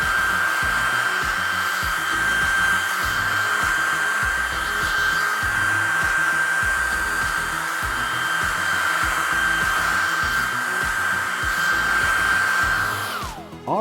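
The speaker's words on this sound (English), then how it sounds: "You can see my hair dryer has paint all over it." A hair dryer drying paint, blowing close and loud with a steady high whine and rushing air that run on unbroken until it clicks off at the end.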